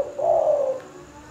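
Zebra dove (perkutut) in a cage gives a single soft, rounded coo that swells and fades over about a second, close and clear against faint background hum.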